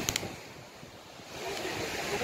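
Beach surf washes in steadily, a soft broadband rush with wind across the microphone, while a few brief sharp knocks come near the start; people can be heard in the background.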